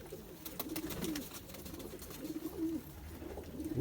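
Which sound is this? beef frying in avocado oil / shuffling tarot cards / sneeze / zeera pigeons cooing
zeera pigeons cooing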